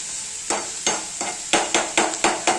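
Onions fry in a pan until brown with a constant soft sizzle. Eight sharp scraping spatula strokes land at a regular pace over it, close and fairly loud, with no voices.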